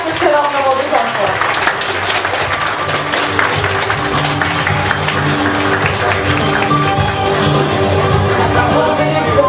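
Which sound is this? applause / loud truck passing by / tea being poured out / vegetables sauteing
applause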